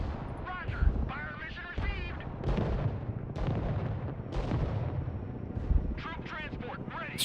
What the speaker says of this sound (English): I'm going to drop some mortars on these guys